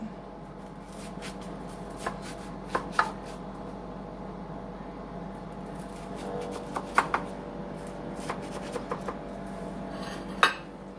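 A utensil cuts into a baked chili cheese hot dog casserole in a dish, giving scattered close clinks and scrapes of metal on the pan over a low, quiet background.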